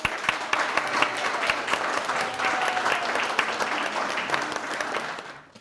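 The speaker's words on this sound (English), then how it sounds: "please welcome your new leaders with a round of applause" An audience applauds newly installed officers and board members at an installation ceremony, giving steady, moderately distant clapping for several seconds that fades out at the end.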